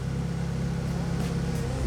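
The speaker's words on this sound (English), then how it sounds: "she's idling pretty smooth" A Honda Civic EG idles steadily up close, a smooth low continuous engine hum with an even rumble and no revving, heard alone without talk.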